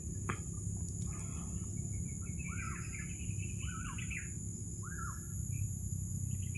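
Several birds call outdoors with repeated chirps and short swooping whistles scattered across the clip, over a steady insect drone and low background rumble; no talking.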